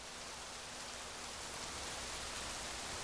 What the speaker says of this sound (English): Oh, it's going to rain on us.